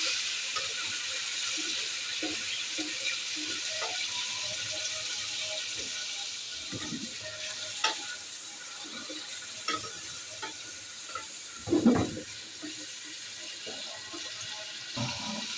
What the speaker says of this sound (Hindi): तो ऑयल के अंदर हम चिकन फ्राई करेंगे।